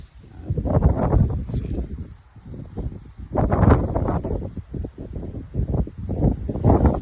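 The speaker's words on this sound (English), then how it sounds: "It's been a beautiful view, albeit very, very windy" Strong, gusty wind buffets a microphone outdoors at a scenic viewpoint, roaring in uneven surges with brief lulls between heavy blasts, with no voices.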